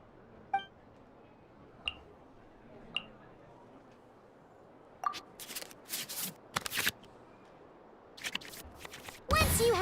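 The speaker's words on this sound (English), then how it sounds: "we can select any number of cards in our hand to shuffle back into the draw pile" Cards shuffled in a digital dice-and-card battle game, with a few soft ticks at first, then bursts of quick riffling card sounds arriving in clusters, close and crisp, ending in a louder flurry.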